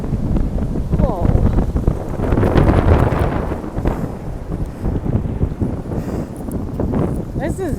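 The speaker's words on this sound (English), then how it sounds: "This wind is like blowing me around because of my pack." Strong wind buffets a backpacking hiker outdoors, roaring and rumbling against the microphone in loud, uneven gusts that rise and fall throughout.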